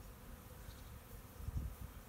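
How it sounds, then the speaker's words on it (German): A swarm of bees buzzes continuously, a faint, dense hum with no other sounds heard. "Komm, geht mal weg, ihr Bienen."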